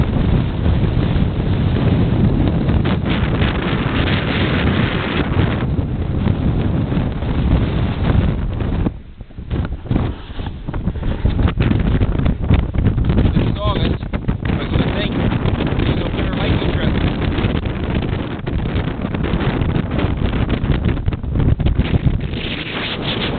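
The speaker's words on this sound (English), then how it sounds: "You can hear that wind." Strong wind beside the Dietrich River along the Dalton Highway in Alaska buffets the microphone loudly and continuously, a roaring rumble with gusty surges and one brief lull near the middle.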